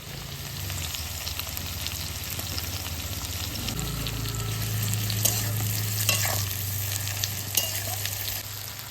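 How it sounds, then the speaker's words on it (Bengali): A steady sizzle of onions frying in a pan with a little salt, with occasional scraping and stirring sounds over a constant low hiss. "পেঁয়াজটা তাড়াতাড়ি ভাজা হওয়ার জন্য একটু লবণ দিয়ে দেবো"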